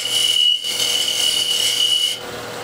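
Small wooden chess piece spinning on a lathe as a tool shaves down its diameter, a steady high-pitched rasping scrape with a brief pause near the start and a drop in intensity toward the end.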